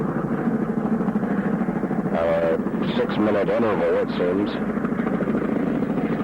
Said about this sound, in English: The sound you hear in the background is one of the many resupply choppers that have been coming in